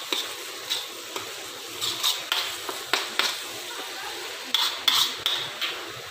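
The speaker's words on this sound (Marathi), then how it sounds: "तिथं आपला कांदा फ्राय होत आहे" Onion frying in a pan for cashew curry gives a soft steady sizzle, broken by repeated light scrapes and clinks of a spatula stirring against the pan.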